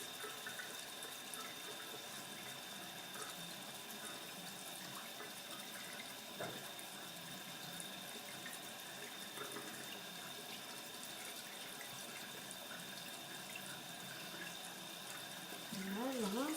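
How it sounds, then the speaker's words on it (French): A bathroom tap runs steadily while makeup is rinsed off the face. The water makes a faint, continuous hiss and splash that does not change much from start to end. "Voilà, je rince."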